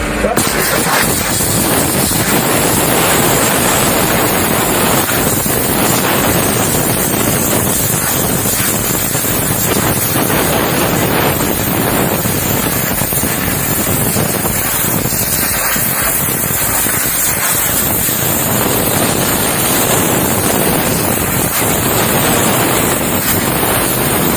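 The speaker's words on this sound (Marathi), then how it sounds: "इतनी हैवी स्केल्स को ये इजीली इस प्रेशर से हम इसे ब्रेक कर सकते हैं, इसे क्लीन कर सकते हैं" High-pressure water jet washer blasting heavy scale off a surface, a loud, constant roaring hiss that holds steady with no breaks throughout.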